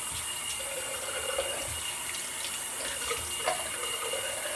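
Tap water runs steadily into a sink as shaving lather is rinsed off, a continuous close hiss with faint splashes and no talking.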